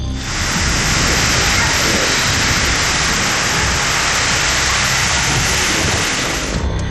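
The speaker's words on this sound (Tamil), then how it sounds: "சூறைக்காற்றுடன் கனமழை வெளுத்து வாங்கியது" Heavy summer rain driven by strong winds in the Arani area of Tiruvannamalai district, Tamil Nadu, pours as a loud, unbroken roaring hiss that fills the whole stretch with no pauses.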